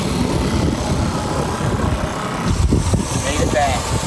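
A small outboard engine with a plastic propeller drives a tiny crabbing boat at full throttle, a loud, buzzing, rough drone heard close with wind noise throughout.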